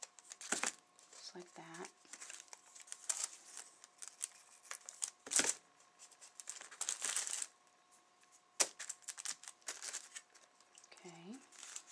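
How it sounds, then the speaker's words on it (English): Scissors snipping the edges off a clothing tag, with several short crisp cuts and paper crinkling scattered between bursts of speech. "And I'm going to cut the edges off,"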